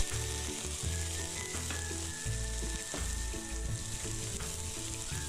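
Minced meat fries in a pan with a steady, dense sizzle and crackle throughout, with some rhythmic low thumps in the background.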